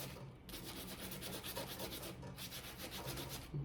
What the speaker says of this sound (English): while I'm sanding it, I sand down that little hump, make that nice and smooth